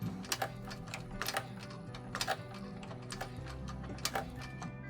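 A home sewing machine back stitching on a handbag exterior runs in short mechanical bursts, a soft steady whirring hum broken by sharp ticking clusters roughly once a second.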